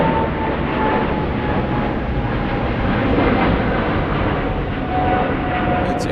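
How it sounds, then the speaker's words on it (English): An Air China Boeing 777 airliner taxies at Frankfurt Airport, its engines producing a loud, steady, continuous jet roar that holds constant throughout. "We got a 777 Air China. I think this is part of the push that you're talking about. It's coming."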